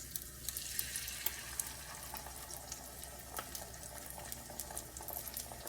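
An egg fries in grease in a pan for a keto breadless ham and cheese, giving a steady, dense crackling sizzle that runs unbroken throughout with scattered sharper pops and no talking.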